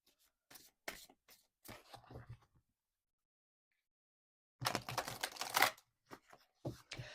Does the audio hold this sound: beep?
no